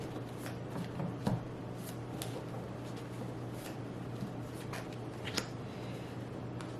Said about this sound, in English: I keep accidentally hitting my thumb when I'm shuffling.